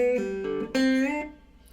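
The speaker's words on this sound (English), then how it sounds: "So I'm going to hit this string, and I'm going to bend it." Guitar notes from a lick, picked slowly with a quick string bend that audibly slides the pitch upward before ringing out and fading, played alone and close.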